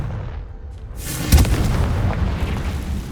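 A Confringo spell explosion in Hogwarts Legacy goes off as a single deep boom with a crackling burst, rumbling briefly over a steady ambient background.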